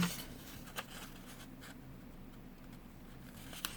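Coloured origami paper folded in half to make a simple paper cup, with soft close creasing and brushing strokes and a couple of short rubbing swipes, no voice.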